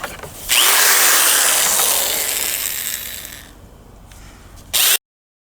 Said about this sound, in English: what I'll do now is create some pilot holes with countersink bits, because this is 3/4 inch